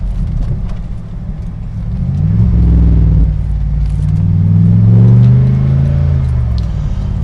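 Engine of a 2016 Morgan Aero 8 Roadster running warm, a loud low rumble that swells in two deep revs, easing between them, heard close with no talking.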